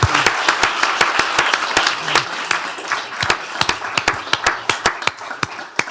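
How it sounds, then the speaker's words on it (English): At a county commissioners court meeting, a small audience gives five-year-old Audrey a round of applause. Sharp, distinct claps ring out in an uneven rhythm, close and fairly sparse, with faint voices underneath. "Let's give her another Great round of job,"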